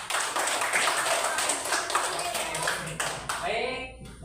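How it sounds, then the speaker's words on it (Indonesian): A classroom of students applauds a student group, a steady burst of clapping lasting several seconds before it thins out and fades near the end. "boleh tepuk tangan pada kelompok 3"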